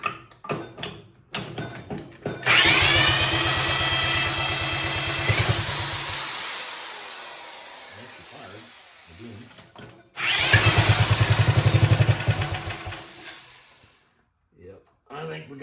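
A Wheel Horse RJ 58/59 tractor engine cranks in two long bursts, each a loud rhythmic churning that struggles without catching and then winds down, with short clatters and brief voices in the gaps between attempts.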